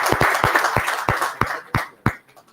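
An audience claps at an industry–institution summit as a session moderator is introduced, dense applause with distinct hand-claps standing out, tapering off to a few last claps.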